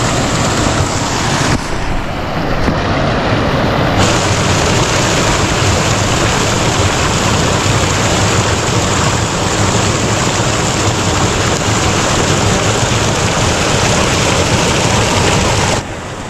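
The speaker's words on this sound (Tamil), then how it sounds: "இது தண்ணி வந்து கம்மியாக போயிட்டுருக்கு." Stream water rushes past a village fish trap, a loud, continuous broadband wash heard up close that stays steady and unbroken throughout, with no voices.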